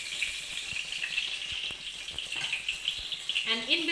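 Prawns frying in a pan give a steady, fairly quiet sizzle with light crackles throughout. A short tonal sound is heard near the end.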